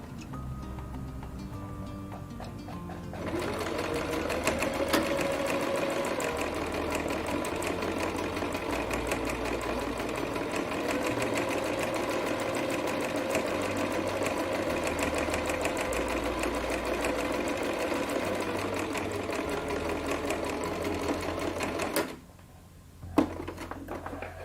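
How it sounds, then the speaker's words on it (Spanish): A sewing machine runs steadily for about twenty seconds, stitching fabric for homemade makeup remover pads, a fast even needle whir close up that stops abruptly near the end. "Pues vamos a coser."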